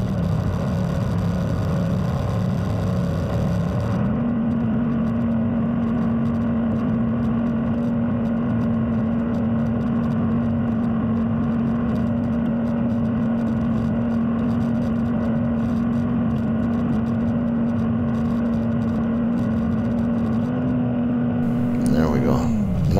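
A skidder's diesel engine drones steadily under load for a long stretch while winching logs, its pitch stepping up early and holding.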